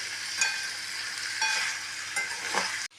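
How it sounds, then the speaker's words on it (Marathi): Mixed vegetables fry in a pan with a steady, close hiss of sizzling oil, punctuated by a few brief stirring scrapes, before cutting off abruptly near the end. "इथे आपल्या ह्या भाज्या बऱ्यापैकी फ्राय झालेल्या आहेत"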